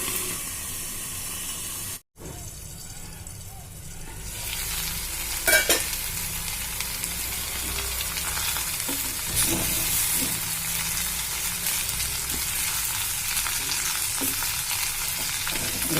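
Leaves frying in a pan give a steady, close sizzle and hiss, broken by a short silent gap near the start and a few scraping stirs, with no voices.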